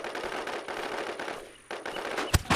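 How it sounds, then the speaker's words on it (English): Video game gunfire rattles in rapid, continuous bursts aimed at the player, dipping briefly before a sharp crack and renewed firing near the end. "Someone's shooting me with something."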